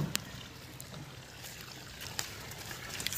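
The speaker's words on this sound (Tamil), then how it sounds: "மோட்டார் ரன்னிங்கில் தான் இருந்துகிட்ருக்கு" A 600 W BLDC solar-powered well pump motor runs while water discharges, giving a steady, soft broadband wash like flowing or splashing water with a few faint clicks, fairly quiet and without talk.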